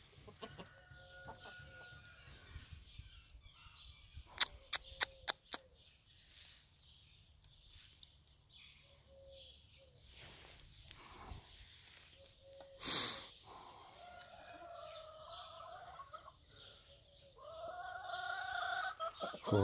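A hen clucks in short, scattered bursts while hurrying to lay an egg in a farmyard, mixed with other fowl calls and light background noise.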